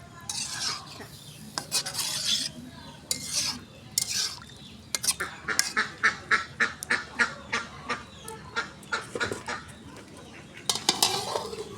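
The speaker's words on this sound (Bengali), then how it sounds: "দেখুন হাঁসগুলো কত সুন্দর করে চলে যাচ্ছে। লাইন ধরছে ওরা।" Ducks walking in a line quack in a rapid rhythmic series of short honking calls, fairly faint, with scattered bursts before and after the main run.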